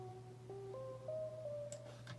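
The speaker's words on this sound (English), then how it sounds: "I have a droplet lead that has 4 different components to it." Synth droplet lead line in a hip-hop beat, a series of bright stepped tones gliding between pitches over a steady low bass hum, with faint clicks near the end; no vocals.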